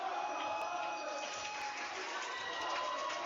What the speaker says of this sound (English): You hear the applause coming from the Murphy side of the gym